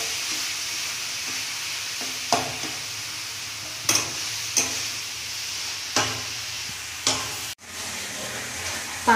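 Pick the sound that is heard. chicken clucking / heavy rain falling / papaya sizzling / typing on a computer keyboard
papaya sizzling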